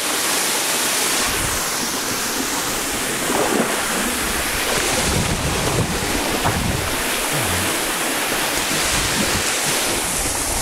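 Broad, steady roar of a tall waterfall over 750 m high and its river at Mesetas, Meta, loud and continuous throughout with no speech.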